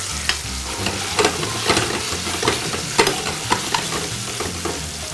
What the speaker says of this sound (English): We can take this whole bunch of sage and just drop it right in.